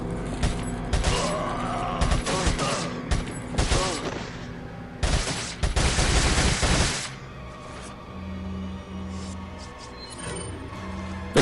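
Submachine gun fire in Resident Evil 4 on PlayStation 4, several rapid bursts with mechanical clatter in the first seven seconds, then quieter game ambience with low tones.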